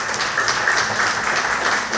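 A church congregation applauds a testimony during a Methodist service, a steady, dense burst of many hands clapping together for about two seconds with no talk over it.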